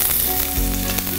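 Cumin and mustard seeds sizzle steadily in hot oil, a close, even crackle and hiss that holds level for just over a second with a brief surge of spitting midway.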